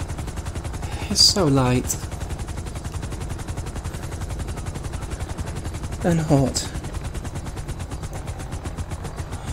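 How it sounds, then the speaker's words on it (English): A helicopter landing in GTA V, its rotor chopping out a fast steady thud close by throughout, with a voice speaking briefly twice over it. "Is that the helicopter landing?"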